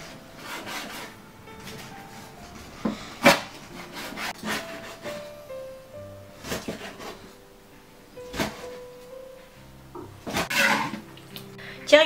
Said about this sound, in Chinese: 片下来的鱼肉给它切成条